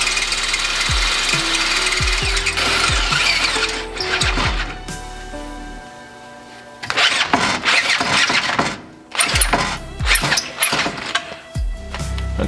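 A drill bit tapers out a hole in a steering knuckle during a drift car build, with loud bursts of machining that start and stop repeatedly, broken by brief pauses and clunks.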